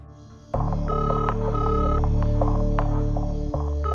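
A phone tone sounds steadily for about three seconds, a continuous buzzing electronic note with a low hum beneath it, fairly loud and close.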